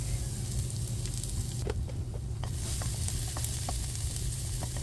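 Garlic in a little reused frying oil sizzles steadily while toasting toward brown for sinangag fried rice, a continuous close crackling hiss with occasional soft stirring clicks.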